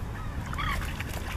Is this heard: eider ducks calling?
yes